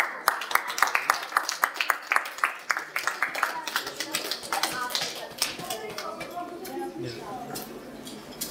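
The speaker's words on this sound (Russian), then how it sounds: "Аплодируй." A small group of children and adults claps at an award ceremony for a Kharkiv regional chess championship. The clapping is brisk and uneven for about five seconds, then fades as someone talks.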